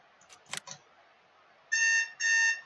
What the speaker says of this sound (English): Yes, that's my alarm clock.